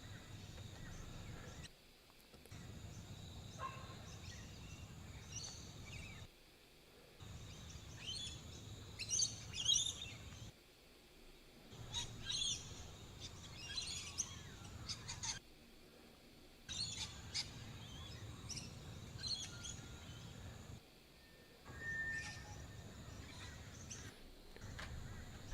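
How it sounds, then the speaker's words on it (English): Recorded grey shrike-thrush calls followed by other bird calls, played back as a wildlife recording: a string of bright chirps and warbling phrases in separate bursts broken by short silences, with a low steady hum underneath. "There's the grey striped thrush right at the start."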